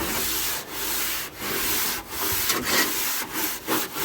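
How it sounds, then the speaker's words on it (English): A stiff brush scrubs the painted surface of a 1980 Chevy 4x4 truck in repeated back-and-forth strokes, a close, loud rasping hiss broken by short pauses between strokes, with no talking. "And then you can get in here with this brush."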